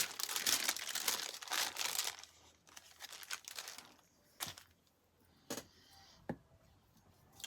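Cellophane crinkles loudly at close range during journal making, a dense burst of crackling for about two seconds, then fainter scattered crinkles and a few sharp snaps.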